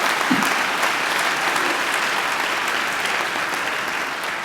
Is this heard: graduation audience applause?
yes